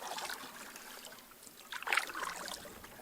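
A canoe paddle dips into the Manitowish River with soft splashes and trickles, including one brief, slightly louder stroke, all faint and close.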